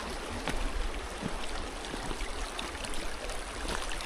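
Dardara (Shubhradhara) waterfall at Kadamdiha in Odisha, water falling and flowing in a steady broadband rush, close and continuous with no voices.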